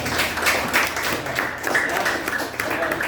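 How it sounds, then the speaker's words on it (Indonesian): Students in a classroom clap for a classmate's correct answer, a mixed patter of hands at moderate level with a faint voice woven through it. "Tepuk tangannya"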